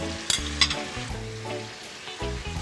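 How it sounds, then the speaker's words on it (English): Shrimp cooks in butter in a pan for Southern-style shrimp and grits, giving a close steady sizzle with a couple of sharp utensil clicks early on. "Let's cook this shrimp, baby"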